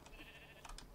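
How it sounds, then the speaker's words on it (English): A low-pitched sheep bleats in Minecraft, a short wavering call heard twice over a steady game background hum. "That was a really low sounding sheep."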